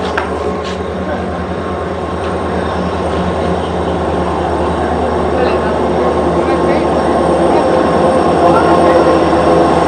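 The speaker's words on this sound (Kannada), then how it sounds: "ಈಗ ಟ್ರೈನ್ ಬಂತು ನೋಡ್ರಿ ಇಲ್ಲಿ" A passenger train pulls into a railway station with a loud, continuous low rumble and rolling wheel noise that holds steady throughout, close to the platform.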